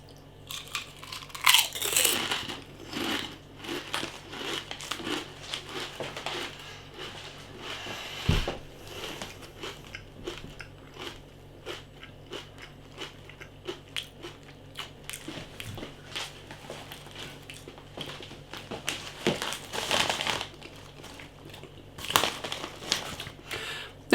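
Walkers MAX Double Crunch chicken and chorizo crisps get eaten close to the mic: repeated loud bites and crisp crunching chews, with bursts of crinkling from the packet, going on irregularly without any talking.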